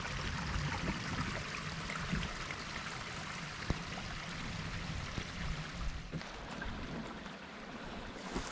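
A small creek flows steadily nearby, its broadband rush and trickle filling the scene continuously, with a few brief knocks and splashes scattered through and no voices.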